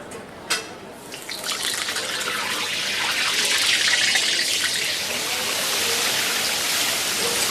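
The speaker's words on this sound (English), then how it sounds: "Let's rinse the old hands." Hands are rinsed under a running tap in a kitchen where food is being deep fried, a steady, close gush and splash of water that swells after a brief start and then runs on evenly.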